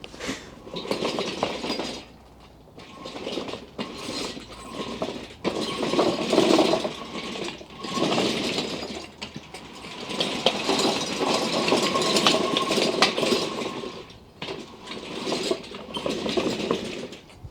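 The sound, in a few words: T-1 Terminator battle robot moving and spinning on its tracks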